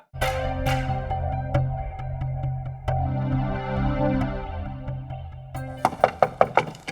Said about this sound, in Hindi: खटखट हो रही, कोई आया है तो खोल।